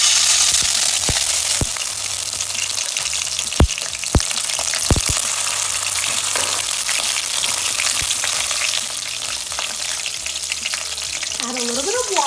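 A big spoonful of salsa sizzles and spits in hot oil in a pan for vegetarian Indian-style nachos, with a loud continuous fry punctuated by a few sharp spoon or spatula clicks against the pan.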